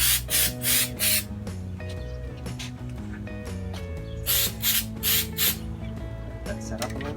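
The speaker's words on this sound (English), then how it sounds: "it's actually 4 passes of the spray paint" Several short hissing bursts of spray paint coating a piece of furniture, coming in two clusters of quick passes with steady background music running underneath.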